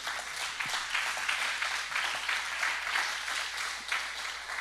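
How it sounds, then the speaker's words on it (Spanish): A church congregation applauds during a Spanish-language sermon, a dense, continuous wash of clapping that holds evenly from start to finish. "Denle el aplauso al Señor."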